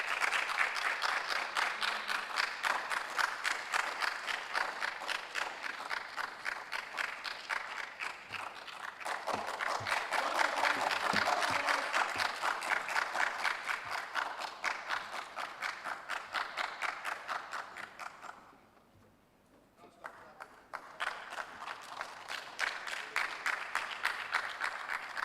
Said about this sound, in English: Please, with a round of applause, join me as I welcome the contestants on stage.